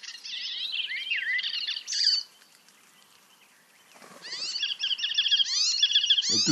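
Fast, scratchy warbling song of an icterine warbler with chattering, mimic-like phrases, broken by a brief lull and then resuming loudly and continuously.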